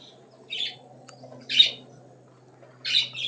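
Caged pet birds give three short, sharp squawks spaced about a second apart, fairly close and loud over a quiet low hum, with no talking.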